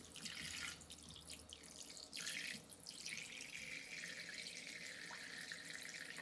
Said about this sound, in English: just turn on the tap